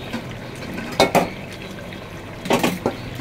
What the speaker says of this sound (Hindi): अभी मैं ये जो पानी है ना गोश्त का इसको मैं निकाल लूँगी